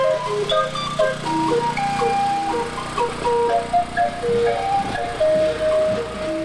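Steam calliope in a Fourth of July parade in Hamilton plays a bright, loud, piping melody of sustained whistle notes over a steady low drone, continuous and near throughout.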